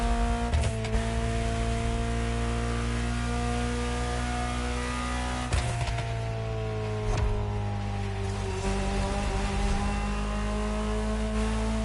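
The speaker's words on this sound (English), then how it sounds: "Just listen to the car you're driving." A Ferrari supercar engine in The Crew Motorfest video game drones at a steady high idle with low harmonic hum, briefly revving a few times before settling back.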